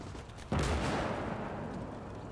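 A 152mm tank cannon in a video game fires once with a sudden heavy boom, followed by a long rumbling decay, with no talking.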